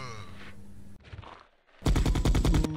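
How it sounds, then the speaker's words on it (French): A machine gun fires in a Resident Evil 2 drama album scene, a dense, loud burst of rapid evenly spaced shots in the last second, after a short mixed stretch of other effects. "Philippe tire avec la mitrailleuse"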